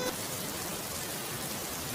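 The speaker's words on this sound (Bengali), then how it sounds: "এরকম বৃষ্টি অনেক বছর পর দেখলাম" Heavy rain pours steadily in a dense, even hiss with no pauses.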